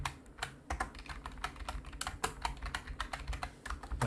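Computer keyboard keys pressed for Photoshop shortcuts, a rapid run of crisp clicking taps with an uneven typing rhythm, close and clear with no talking.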